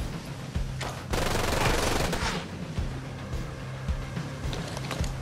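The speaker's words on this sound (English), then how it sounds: "Man, who just opened fire on me?" Gunfire in Ghost Recon: Breakpoint, a dense burst of automatic shots near the start, then scattered single reports at moderate distance.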